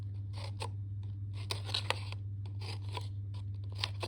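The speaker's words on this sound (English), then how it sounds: "what I'm going to do instead is I'm going to do little snips" Scissors make a run of quick little snips through masking tape on a star piñata, crisp close cuts in irregular bursts over a low steady hum.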